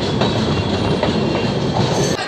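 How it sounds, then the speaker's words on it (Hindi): Janhit Express train running on electrified rails out of Khagaria Junction in Bihar, a loud continuous rumble with steady wheel clatter heard from inside the carriage. "हमारी ट्रेन खुल चुका है खगड़िया जंक्शन से प्लेटफॉर्म नंबर 2 से।"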